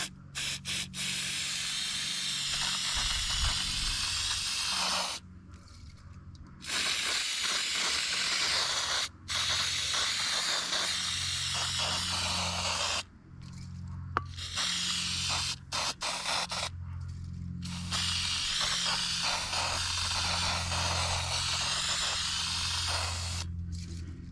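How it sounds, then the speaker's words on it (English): An aerosol spray can hisses onto a filter in a series of long, close, steady bursts, separated by several short pauses. "Okay, so I'm not sure on the quality of that spray,"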